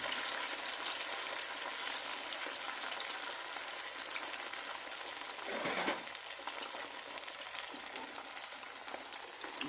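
Chile sauce cooking in a pot for potato and cotija cheese enchiladas, giving a steady soft sizzle and bubbling at low volume with no talking.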